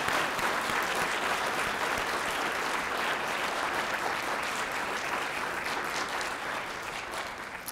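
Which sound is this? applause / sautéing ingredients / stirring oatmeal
applause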